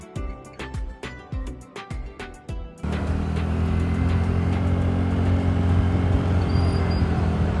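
A TVS Ntorq 125 scooter creeping slowly through busy market traffic, rhythmic rattling thumps at first, then a steady loud engine drone and road rumble as it keeps rolling along.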